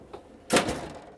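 The outdoor kitchen compartment of a compact off-grid trailer opens with a faint click, then a sharp hollow clunk of the panel swinging free and settling, close and brief.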